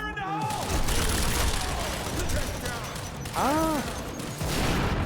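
Weapons fire in the video game Quantum Break, loud dense bursts of shots mixed with sweeping electronic effects and in-game noise, someone briefly shouting over the continuous din.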